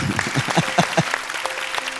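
Applause rises from a live audience at a Malayalam stand-up comedy show, a short burst of scattered clapping over about two seconds with some crowd noise.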